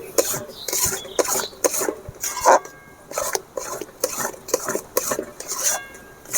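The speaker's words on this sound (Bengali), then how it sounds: "হালকা জালে এভাবে কিন্তু নাড়তেই থাকতে হবে" A spoon stirs a raw mango mixture with salt and Kashmiri chilli powder in a pan over low heat, giving repeated close scrapes and metallic clinks against the pan in an uneven rhythm, with no talk.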